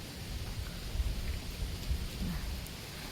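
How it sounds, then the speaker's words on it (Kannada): Heavy rain driven by strong wind, a faint, steady hiss of rainfall with low gusty rumbles and scattered soft thuds, no voices heard. "ಈಗ ಒಂದು ಮಳೆ ಬರ್ತದೆ, ತುಂಬ ಜೋರಾದ ಮಳೆ, ಒಳ್ಳೆ ಗಾಳಿ ಬರ್ತಾ ಉಂಟು"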